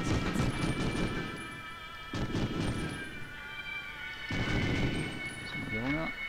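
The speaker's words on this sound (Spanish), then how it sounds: "hago un disparo" Several sharp gunshots from the video game Medal of Honor: Underground crack out, spaced a couple of seconds apart, with game sound effects and a voice speaking in between.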